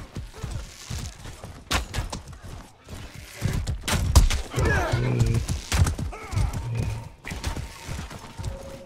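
Horses in the medieval combat game Mordhau gallop with rapid thudding hooves and neigh sharply, amid clashing battle noise and impacts, loud and close, with brief talking.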